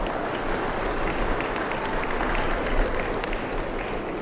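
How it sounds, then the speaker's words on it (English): Sustained, dense audience applause for Angus steer exhibitors in the show arena at a county 4-H fair beef show, evenly loud and continuous throughout. "Let's give these Angus steer exhibitors a nice round of applause."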